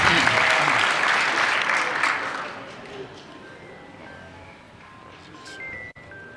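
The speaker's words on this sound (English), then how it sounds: "Please, a round of applause for him as he do that." An audience at a political roundtable on the 2023 elections gives a loud burst of applause that slowly fades over several seconds, followed by a quiet room with a brief thump near the end.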